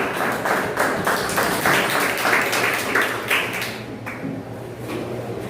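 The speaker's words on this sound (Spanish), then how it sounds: "Dale palmas al Señor." A church congregation claps together in a steady, rhythmic beat, a dense run of sharp hand claps filling the hall that thins out toward the end, with no talk over it.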